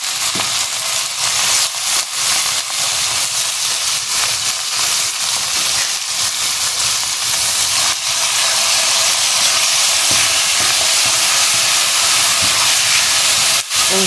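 Pork that was washed with flour and salt sizzles in a hot pan while cooking with onions, giving a loud, steady, bright hiss and crackle that goes on without a break.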